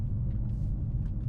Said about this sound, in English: I can put on the electric sound as well, which is going to be quite strange